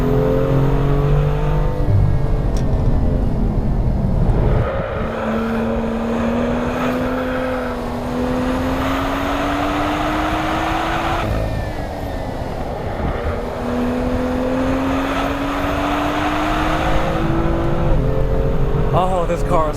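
A BMW M2 accelerates hard at full power around Laguna Seca raceway, its engine note climbing through the revs with gear changes, loud and close from inside the car.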